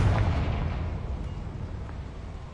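A Confringo explosive spell goes off in Hogwarts Legacy, opening with a loud, deep blast that rolls into a rumbling, slowly fading roar with no voices.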